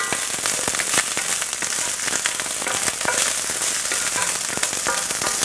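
Salted fish fried rice sizzles in a hot pan, a dense, steady crackle and spatter with sharp pops scattered throughout, close and fairly loud with no talking.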